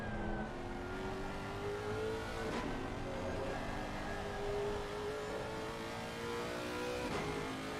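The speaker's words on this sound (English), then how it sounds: "The sounds of that Lexus is just beautiful." Lexus race car engine in Assetto Corsa Competizione at Paul Ricard, a steady distant mid-pitched drone with rising and falling revs as gears change, sustained throughout without speech.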